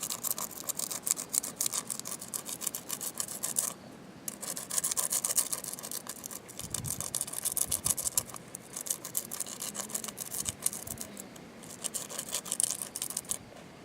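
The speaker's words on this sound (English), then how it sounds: "you can just sit here and grind away" A wooden stick being ground to a point against a stone by hand, a steady close rasping scrape that runs continuously with brief pauses, no talking.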